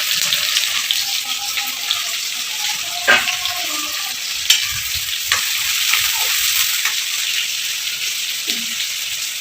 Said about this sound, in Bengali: আগে পেঁয়াজ দিয়ে দিল তেলে